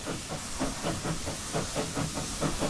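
A steam train in the video game Gold Rush gives off a broad, steady hiss with a faint rhythmic chuffing pulse underneath, moderately loud and without talk.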